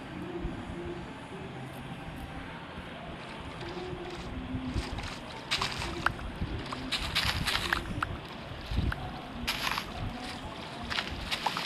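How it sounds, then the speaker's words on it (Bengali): A boat glides across a leaf-covered pond in the Minecraft video game, giving a steady low churning and splashing drone throughout, with bursts of brighter crackling and clattering in the middle and near the end. "এবার আমরা যাবো ফের বোটে করে বাড়ি"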